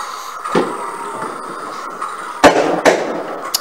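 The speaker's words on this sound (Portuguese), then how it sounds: "Eita, os fogos" Fireworks in the Ben 10 Protector of Earth PS2 video game, a few sharp pops and crackling bursts over a steady background hum, with two louder blasts near the end.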